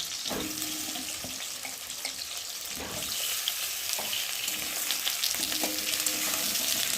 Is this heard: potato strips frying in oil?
yes